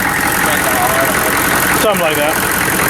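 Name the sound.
truck engine idling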